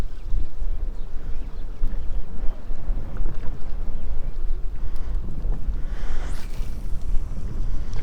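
Wind-blown waves slapping against a kayak in six-inch-deep shallow water on a blustery Texas redfish outing, a steady close splashing and lapping under constant microphone wind rumble, with no talking.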